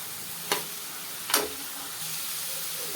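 Banana stem and ground coconut sautéing in a pan for a Tamil banana stem stir-fry, a steady soft sizzle with two brief sharp scraping stirs early on, close and alone.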